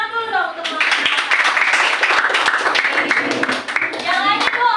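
Classroom students clapping together for a group standing up, a dense round of hand claps with voices and some singing mixed in, close and fairly loud.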